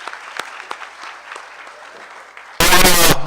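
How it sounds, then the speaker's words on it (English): Audience applause for an economic panel at a regional summit, scattered claps rising into sustained clapping that ends abruptly as a loud voice begins speaking close by. "let's give a great round of applause to our economic panel"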